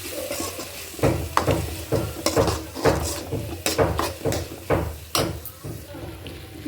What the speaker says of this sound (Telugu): ఇదంతా కలిసేంత వరకు ఫ్రై చేసుకుందాం